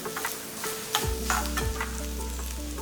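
Grated coconut roasts in ghee in a pan, a close crackling sizzle with repeated scraping strokes of stirring, steady and fairly loud, with no speech.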